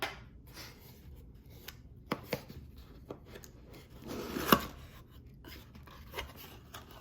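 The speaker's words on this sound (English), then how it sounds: "So to open, we recommend using a knife or a scissor. You just cut along the top of the box." A knife or scissors cuts along the top of a cardboard passport box, making quiet close scraping and slicing sounds with a few sharp ticks and a louder rasp midway.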